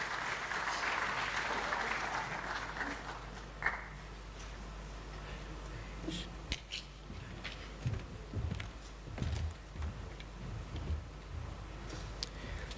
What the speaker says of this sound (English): Shall we welcome them with a round of applause